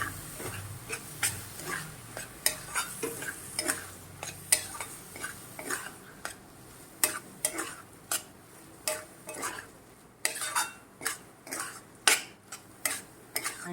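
Crumbled paneer bhurji is stirred in a pan over medium heat, with a spatula scraping and clinking against the metal in an irregular rhythm, close and fairly quiet, over a faint sizzle.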